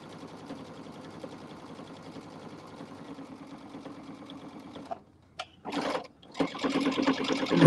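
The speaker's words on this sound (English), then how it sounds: "just top stitch that all the way down" A sewing machine top-stitches soft Minky fabric for a cuddle book, running in a steady fast whir for several seconds, briefly stopping and starting, then speeding up again loudly at close range.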